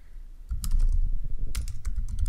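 Fast typing on a computer keyboard, a dense close clatter of key presses with a low thumping undertone, steady with no talk.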